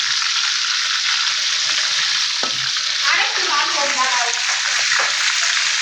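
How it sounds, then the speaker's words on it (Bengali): Marinated pieces sizzle in hot oil as they fry to a light brown, a loud, dense, continuous crackle close up with some scraping and bubbling partway through, and no talk. "হালকা ব্রাউন কালার করে ভেজে নেওয়া হবে এইভাবে হালকা করে ভেজে নিয়েছি"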